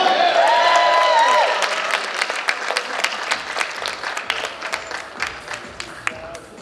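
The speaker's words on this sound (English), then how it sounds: "Can I have a huge round of applause once again?" A gala audience at a fundraising event bursts into loud applause after a performance, a dense roar of clapping with a brief tone in the opening seconds, then thinning into scattered, distinct claps as it fades.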